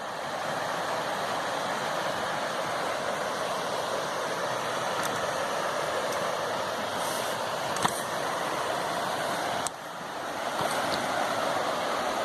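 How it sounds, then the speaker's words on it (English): A river in the Yorkshire Dales in November rushes as a steady, broadband flow of water throughout, with a few faint clicks and no talking. "down near the river now"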